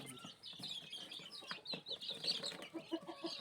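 Young gamefowl stags cluck softly in a brooder pen, scattered low chirps and clucks with a few repeated calls near the end, faint and close.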